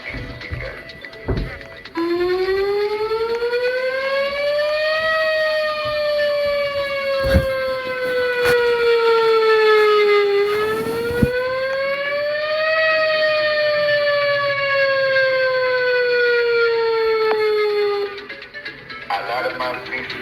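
Seismic alarm siren sounding during an earthquake warning drill, a loud wailing tone that rises and falls in slow sweeps for about sixteen seconds, with a couple of brief thumps beneath it.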